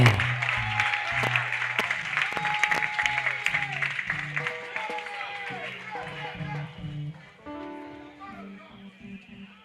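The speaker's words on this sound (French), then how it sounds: "Acclame plus fort, plus fort, plus fort." A crowd at a Christian evangelistic crusade in Côte d'Ivoire applauds and cheers the Lord in a sustained wash of clapping, mixed with loud music and an amplified voice.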